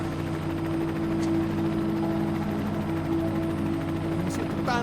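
Helicopter rotors and engine throb steadily and loudly, a continuous close drone with pulsing blades, from a survival rescue scene on a frozen river in the Amazon.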